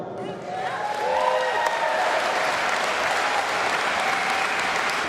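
Crowd at a political rally applauding, a dense wash of clapping that swells early and holds steady, with some cheering and voices mixed in.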